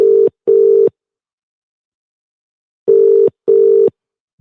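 Telephone ringing tone heard over a loudspeaker during a radio call-in show: two pairs of steady double beeps separated by a long silent gap, clear and loud with no talk.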